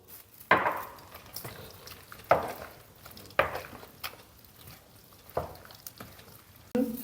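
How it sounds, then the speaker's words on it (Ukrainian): Spoon stirring a homemade chicken sausage mixture of ground chicken, eggs, butter and milk in a bowl, with several sharp knocks against the bowl among soft, wet squishing strokes, close and alone. "Трохи додаємо молока і все це добре перемішуємо"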